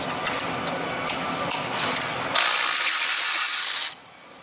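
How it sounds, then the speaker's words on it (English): Ratchet wrench loosening catalytic converter bolts on a Nissan Altima, a run of quick clicks followed by a loud continuous whirring ratchet burst lasting about a second and a half, close up, then stopping abruptly. "you're just break it free and then of course ratchet it all"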